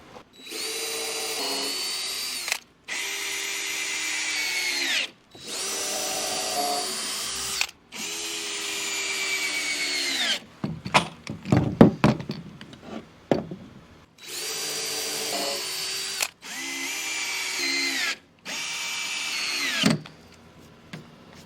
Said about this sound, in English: I'm gonna pre-drill the holes and then screw them in.